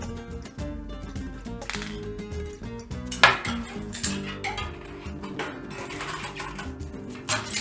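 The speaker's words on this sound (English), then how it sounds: "Tighten the rotor bolts gradually" Metal tool clicks and clinks come from tightening the disc brake rotor bolts on a mountain bike with a DNM USD-6 dual disc fork. Irregular close taps and ratcheting ring out over a faint background hum.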